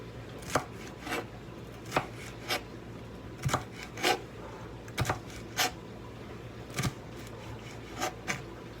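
Vegetables for pico de gallo being chopped by hand with a knife on a board, a series of crisp, close knocks coming in uneven bursts with short gaps between them.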